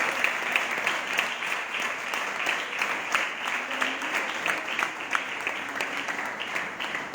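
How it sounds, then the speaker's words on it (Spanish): A church congregation gives sustained applause to the Lord during a Sunday service, a steady, even clatter of many hands continuing throughout at moderate loudness. "Dale un fuerte aplauso al Señor."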